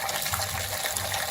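Water gushes steadily into a home-brewing mash tun from a hose fed through a ball valve, a bright, continuous filling rush heard up close with no talk.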